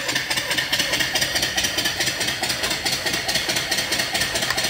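Small steam engine running on a boiler, rapid regular chuffing and hissing pulses at an even rhythm, moderately loud and close, no voices.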